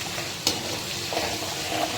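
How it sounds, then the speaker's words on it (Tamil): Soft, steady sizzle of ginger frying in hot oil, with a brief clink of a utensil near the start. "எப்படி பாருங்க இப்படி பொரிய விடணும்"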